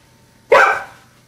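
A blue nose pit bull lets out a single loud, close bark on command, short and sharp with a quick fade, in an otherwise quiet room.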